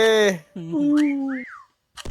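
A clear, rising-and-falling whistle close by, with a few short pitched notes around it and a brief noisy burst at the end.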